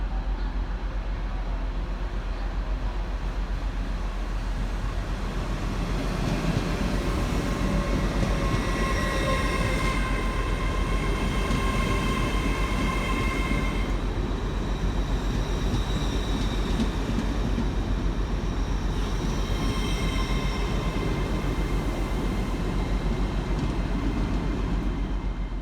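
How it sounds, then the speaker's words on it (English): TransPennine Express train 802-216 pulls into Manchester Victoria station with a steady, loud rolling rumble, and thin wheel squeals and brake whines come and go over the drone. No one speaks. "Arriving next into the station is 802-216, working the 1123 Trans-Pennine Express service from Newcastle through to Liverpool Lime"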